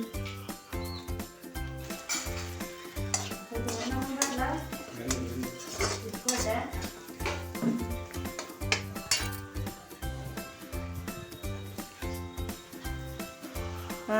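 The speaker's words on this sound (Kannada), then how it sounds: "ಹಿಂಗ ಫ್ರೈ ಮಾಡಿ ತಿರುಗಿಸ್ಕೊಂತ ಇರ್ರಿ ಕೆಳಗೆ" Metal spoon stirring and scraping a pan of frying drumstick with curry leaves, repeated clinks and scrapes in an uneven rhythm, close and moderately loud over steady background music.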